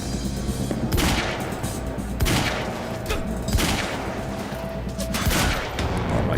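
An assault rifle in Quantum Break fires in rapid, dense bursts, sharp repeated cracks close and loud with short gaps between volleys.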